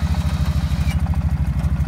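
A quad bike engine runs close by with a steady, fast thumping pulse, a rough rhythmic idle heard alone.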